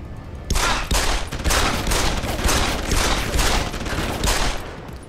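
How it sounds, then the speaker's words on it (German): Rapid bursts of gunfire from the Deus Ex 3 video game come in a steady, loud series of repeated volleys, with no talking over them. "Schieß mir meinen Weg frei."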